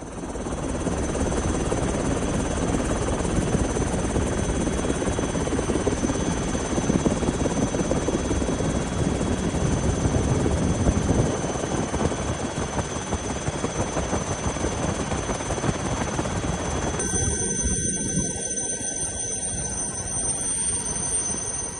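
A helicopter flies over a flooded residential area while dropping food packets, its rotor chop loud and continuous with a steady high whine, and the tone shifts toward the end.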